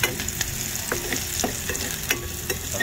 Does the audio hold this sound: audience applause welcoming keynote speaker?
no